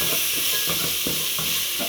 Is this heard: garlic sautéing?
yes